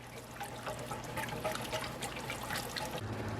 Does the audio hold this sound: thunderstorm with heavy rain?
no